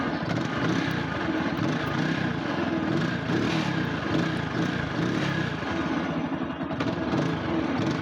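A used TVS Apache RTR motorcycle engine running close by, a steady low throbbing drone with an even pulse, continuous and fairly loud with no talking.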